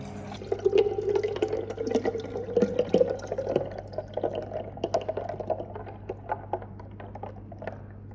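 Jamaican Guinness punch is poured into a glass, a close liquid gurgle and trickle with small splashes and drips that trail off toward the end, over a faint steady hum.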